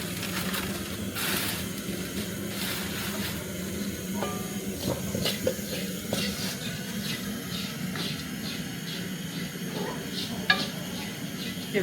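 Coconut flakes being stirred as they cook in a fry pan: steady soft sizzling and hissing throughout, with intermittent scraping and tapping from the spatula against the pan. No voices.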